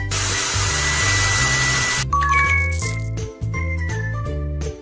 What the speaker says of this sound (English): Now let's use a hair dryer.